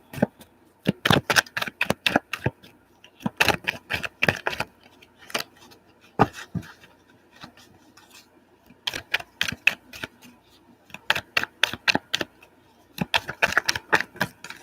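Tarot cards are shuffled in repeated quick bursts of crisp riffling clicks, short pauses between each round, close and fairly quiet.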